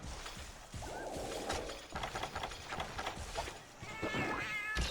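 A cat in Monster Hunter Freedom Unite gives faint, short meows amid a busy, noisy game soundscape, with one brief call early and a wavering one near the end.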